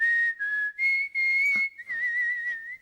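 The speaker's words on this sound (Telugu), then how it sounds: "ఏ విజిల్ అంత బాగుందా?" A person whistles a melodic tune in clear, piercing tones, several sustained phrases with brief breaks between them, close and loud with no talking.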